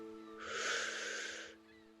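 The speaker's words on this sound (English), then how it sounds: "I invite you to breathe even deeper into the belly" A slow, deep breath drawn in through the belly rises as a soft, airy rush against a faint steady hum, swelling and then fading after about a second.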